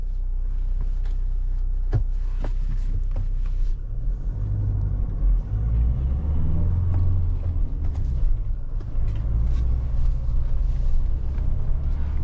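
Mahindra 4x4 driving along a rough mountain road near Tawang, heard from inside as a steady, loud low engine and road rumble with occasional knocks and rattles throughout.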